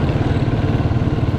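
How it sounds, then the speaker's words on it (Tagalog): A motorcycle engine runs steadily nearby, a continuous low throbbing idle with slight mechanical clatter and no voices. "Malakas tong ating motor na ginagamit, mabilis to"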